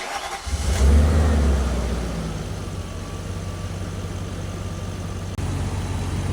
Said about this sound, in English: we gotta start the car